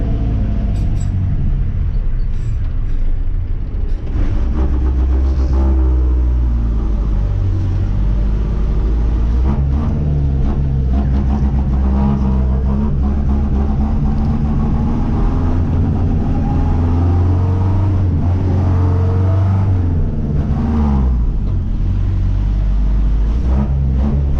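An Otokar M2000 bus with a Magirus engine labours up a ramp, its engine rumbling loud and close with a deep, sustained roar under heavy throttle and brief hisses of air, no voices.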